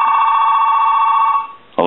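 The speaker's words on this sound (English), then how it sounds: "I'm going to go ahead and ring the telephone." A Trimline telephone rings with a steady electronic warble that cuts off sharply, followed by a brief noise, close and loud with no talk.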